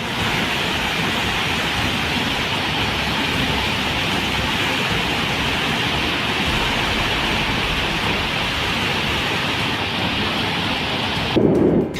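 A Jharkhand waterfall swollen by heavy rain thunders down in a continuous loud, dense roar that stays steady throughout.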